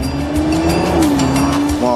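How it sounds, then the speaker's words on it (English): A Nissan GT-R is driven hard around a test track, engine wailing at steady high revs with tire squeal, loud and close, with a brief shift in pitch near the end. "Every day and night, a team of 10 test drivers thrash 25 GT-Rs around this test track."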